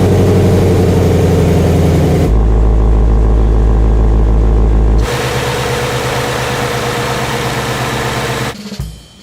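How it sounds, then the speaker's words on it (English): Ford Mustang Shelby GT350 V8 engine burbles loudly up close, a steady rumbling idle that shifts tone with a blip partway through, then settles before fading at the end. "It's the big burbly V8."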